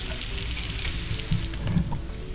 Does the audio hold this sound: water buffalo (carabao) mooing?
no